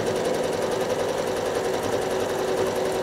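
A sewing machine stitches stippling through t-shirt fabric, running as a steady, fast, even mechanical hum from start to finish, close and continuous with no pauses.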